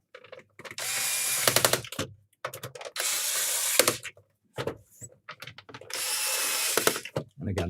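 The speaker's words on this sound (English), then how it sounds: "sounds quite nasty with the electronic screwdrivers" An electric screwdriver whirs in three sustained bursts while backing screws out of a Sega Mega Drive 2 console, loud and close with ratcheting clicks between the runs.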